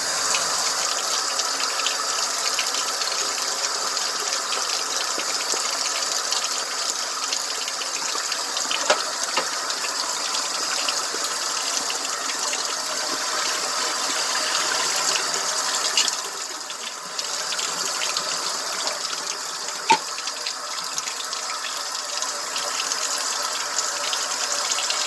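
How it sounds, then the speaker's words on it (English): Water from a dehumidifier drip tray pours down a drain in a long, steady gushing rush that holds at an even level for about twenty-five seconds, with a brief dip partway through and no talking. "remove this drip tray for the dehumidifier and go ahead and dump these down the drain"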